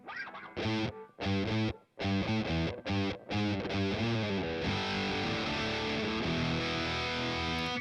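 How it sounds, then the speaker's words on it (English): Electric guitar played through a 60s-style fuzz effect on a Boss Katana MK2 amp, a run of loud, choppy distorted chords with short gaps, then a sustained ringing fuzzy chord left to decay. "It's called a 60s fuzz"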